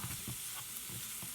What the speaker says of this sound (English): Okay, so my water is boiling.